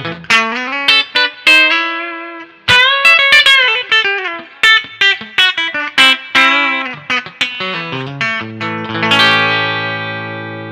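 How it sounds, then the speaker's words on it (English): Twangy electric guitar on a split single-coil bridge pickup through a Quilter Superblock amp: bright, clean picked notes and short phrases with brief gaps, ending on a ringing sustained chord, played alone. "So this is a single coily bridge sound."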